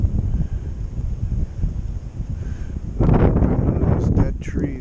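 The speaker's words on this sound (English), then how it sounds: "It's a little windy today." Wind gusting outdoors at a fishing spot, a steady low rumble of buffeting against the microphone that grows louder and rougher toward the end, with faint rustling and a voice talking over it.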